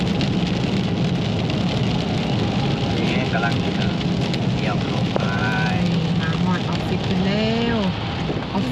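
Steady, dense rain falls in Fort Worth, Texas, a loud continuous hiss on surfaces throughout, with faint voices and some tonal sounds rising briefly near the end.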